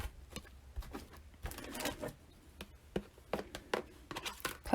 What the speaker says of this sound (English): Back to my embossing machine.